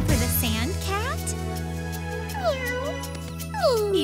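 Several cartoon sand cat meows, each rising and falling in pitch, come in separate bursts over steady background music, loud and close in an animated zoo setting.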